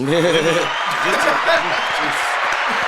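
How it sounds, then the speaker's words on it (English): A comedy show audience applauding with scattered whoops and chuckles, sustained crowd clapping under a speaking voice. "clap for your wife, boy."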